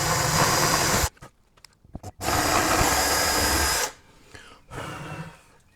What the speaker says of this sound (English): then we can drill the holes on this side to match up